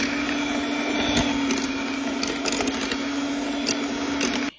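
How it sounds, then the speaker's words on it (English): Mashed potatoes being whipped with butter, milk, sour cream, salt and pepper by an electric mixer, a steady close whirring drone with faint scraping ticks, running alone until it cuts off at the end. "And now I'll mix them until they're nice and creamy"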